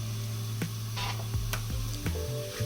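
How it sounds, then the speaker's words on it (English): Julienned carrots sizzle in a pan for a dry curry while a wooden spatula stirs them, giving a steady fry hiss broken by several sharp scrapes and clacks of wood against the pan, close up. "we start to cook them off. Give them a nice little stir around with my lovely wooden spatula"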